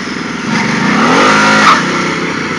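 A motorcycle accelerating hard without traction control while its rear wheel spins out: a loud, close engine note swells and climbs in pitch, then eases back.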